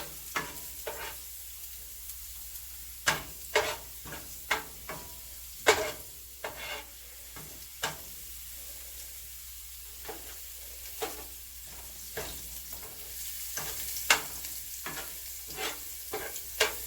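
Beef and vegetables fry in a pan for a Haitian-style dish, a quiet continuous sizzle broken by frequent sharp scrapes and knocks of stirring.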